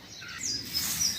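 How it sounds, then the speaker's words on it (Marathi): Birds chirp in the morning around a rural home, a steady wash of small high tweets and calls at moderate distance, with no talking. "पक्ष्यांचं चिवचिवाट कलकलाट नेहमीप्रमाणे सकाळी मस्त असं संगीत असतं"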